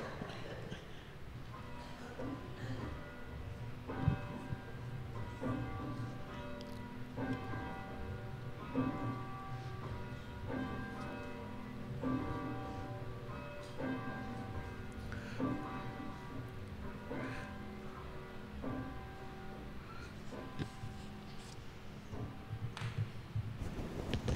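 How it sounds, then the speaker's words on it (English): Church bells ring out to call people to worship in a steady, repeating pattern of tuned strikes, moderately distant and continuing for over twenty seconds, with faint background murmurs beneath. "Let us listen for the bells calling us to worship."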